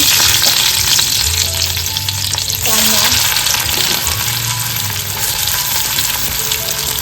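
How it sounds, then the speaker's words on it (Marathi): Mustard seeds and garlic fry in hot oil in a kadhai for a tempering, making a loud, continuous close sizzle with crackling and stirring throughout, and a faint low hum beneath. "फोडणीसाठी इथे ना तेल गरम केलेलं आहे कढईमध्ये राई घालून घेतोय"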